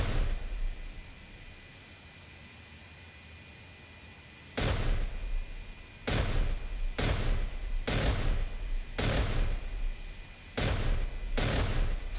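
F-86 Sabre .50 caliber machine guns in a flight video game, fired in several sharp bursts of varying length over a steady engine drone, loud and close.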